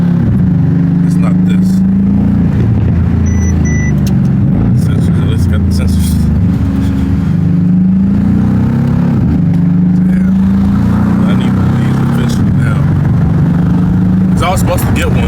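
A fast car accelerating hard, its engine rising and falling in repeated revving sweeps up close, with people talking inside over the noise.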